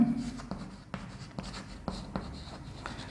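Chalk or marker scratching and tapping on a classroom board during a chemistry lesson, with a steady run of short strokes and sharp taps, close and clear with no talk over it.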